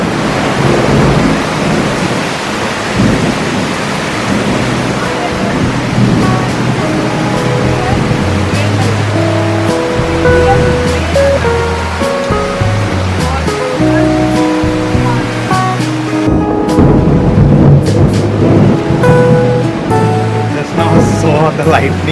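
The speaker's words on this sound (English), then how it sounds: "You can hear the thundering." Heavy rain pours down steadily during a loud thunderstorm in Jamshedpur, Jharkhand, with deep low rumbles rolling through, strongest in the middle and again late on.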